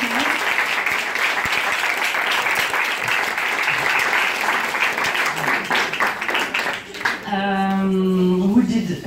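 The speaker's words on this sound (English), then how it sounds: "I would like to ask you for a big, big, big round of applause for Florence and Michael." A large audience gives a sustained round of applause at an International Women's Day event, dense clapping filling the room before fading as a voice begins to speak at the end.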